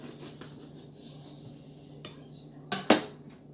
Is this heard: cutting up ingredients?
yes